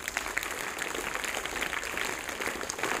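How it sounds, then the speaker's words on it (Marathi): An audience at a comedy show claps in sustained, dense applause, steady and moderately distant throughout with no talk over it. "त्यांच्यासाठी सुद्धा जोरदार टाळ्या व्हायला पाहिजेत"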